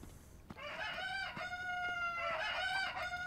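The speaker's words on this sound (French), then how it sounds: "Cocorico, ouais." A rooster crows twice in Zelda: Tears of the Kingdom, each crow a loud drawn-out call close by, with faint clucking and soft background ambience in between.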